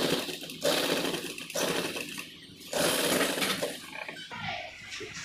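A sewing machine runs in bursts as it stitches a sleeve design on fabric, loud rapid whirring broken by short pauses, with no voices.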